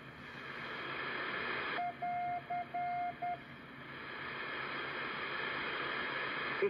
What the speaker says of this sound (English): This is a Morse code practice beacon.